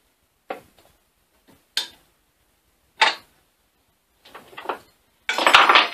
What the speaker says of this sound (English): Now I'll just put it all back together.